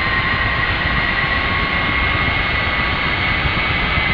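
Ka-50 Black Shark helicopter turbine idling at 70% gas generator RPM during startup in the DCS flight simulator: a steady, loud, continuous whine and roar with no pauses and no talk.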